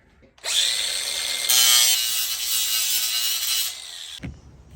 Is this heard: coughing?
no